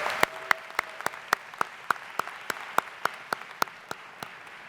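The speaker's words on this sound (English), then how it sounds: "You should give yourself a round of applause for all of that." Sparse, evenly spaced handclaps at a 2022 spring commencement ceremony in Rochester, NY, a steady rhythmic clapping at a quiet level with no voices.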